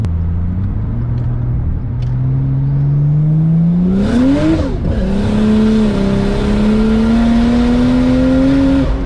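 A 700HP Barra-engined car accelerates hard, its engine note climbing steadily in pitch with a brief gear-change dip midway, loud and close from inside the cabin, with no talking.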